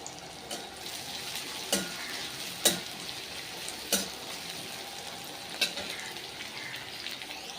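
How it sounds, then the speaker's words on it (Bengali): Onions frying in a pan with a little sugar hiss in a steady sizzle, broken by several sharp scrapes and clatters of a spoon at irregular intervals. "পেঁয়াজগুলো লাল লাল করে ভাজা হয়ে গেছে।"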